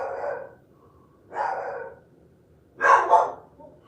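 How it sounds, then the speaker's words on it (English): Dogs bark three times in a loud, near volley, the last a quick double bark, with quiet gaps between each burst. "Dogs just doing what dogs do. Oh, yeah. Oh, I don't care. I like them barking."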